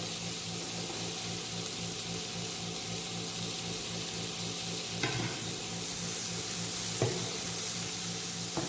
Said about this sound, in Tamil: அடுத்ததாக தக்காளி போட்டுக்கணும். கருவேப்பிலை, கேரட்,